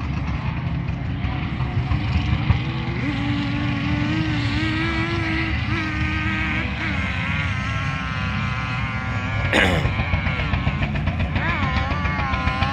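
Several 4x4 vehicles, including Toyota Hilux trucks, drive over Saudi desert dunes at an off-road exhibition, a steady layered drone of engines revving up and down at a distance, with one sharp louder surge partway through.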